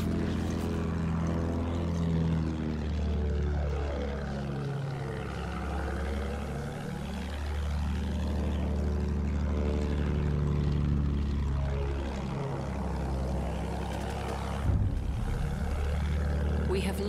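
A propeller plane engine in the video game Battlefield 1 drones steadily, its pitch sweeping up and down repeatedly as it passes and banks, with game voices and a brief burst of noise near the end.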